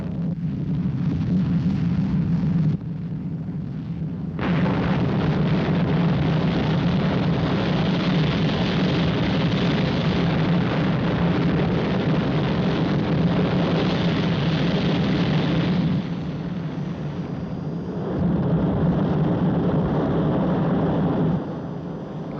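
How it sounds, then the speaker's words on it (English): Rocket liftoff effect from the 1967 Captain Scarlet and the Mysterons episode 'Lunarville', a sustained loud roaring rumble with a steady deep thrust that swells and dips slightly over about twenty seconds, with no voices. "Stand by for liftoff."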